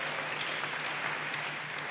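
A church congregation applauds during an Indonesian sermon, a dense, steady wash of clapping that fills the room for the whole moment without letting up.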